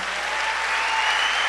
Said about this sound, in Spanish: Le damos palmas al Señor, hermano.